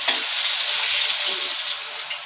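Tilapia fish pieces fry in hot oil, giving a loud, continuous sizzle and crackle close by, steady throughout with no talking.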